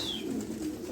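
Pigeons coo nearby in a low, soft throaty murmur, with a faint thin whistle at the start, heard quietly without other sounds.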